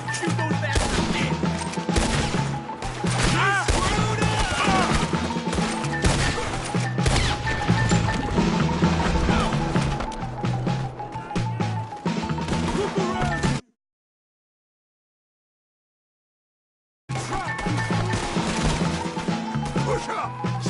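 Heavy gunfire in Red Dead Redemption 2, dense rapid volleys of shots and crashes pounding continuously over shouting voices, cutting to silence for a few seconds before the barrage resumes.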